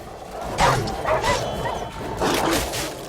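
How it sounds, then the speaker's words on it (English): Wild dogs in The Witcher 3 video game barking and yipping in several close, loud bursts, with short whimpering yelps between them. "A bunch of wild dogs."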